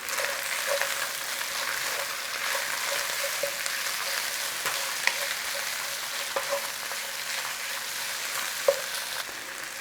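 Ginger and garlic fry in a pan with potatoes nearby, giving a steady, close sizzle with faint crackles and occasional light ticks of stirring, and no voices.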